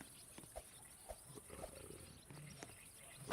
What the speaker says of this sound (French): Oh, le loup.